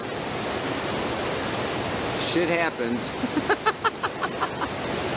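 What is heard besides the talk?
river flowing outdoors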